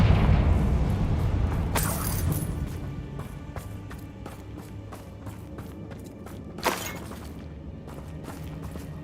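A Confringo blasting spell in Hogwarts Legacy bursts with a loud boom and shattering crash, followed later by a second sharp impact amid game ambience and footsteps.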